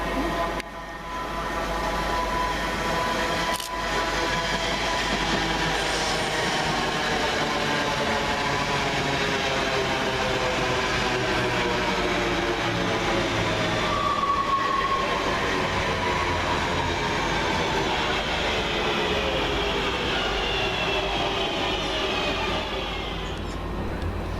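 Two coupled West Midlands Railway Class 323 electric multiple units pass through Bournville station, a loud sustained rumble with rising and falling motor whine and rail noise, close by and alone for over twenty seconds.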